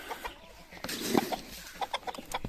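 A flock of chickens clucks in short, scattered calls at moderate distance, the bursts rising and falling with no talk over them.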